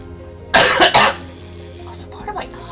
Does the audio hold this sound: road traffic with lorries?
no